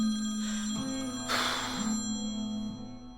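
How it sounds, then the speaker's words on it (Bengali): A telephone rings with a steady electronic tone that repeats in a regular pattern, fairly clear and close, over a quiet background in a dubbed Turkish movie scene. "ভাই ওদের ফোন বাজছে"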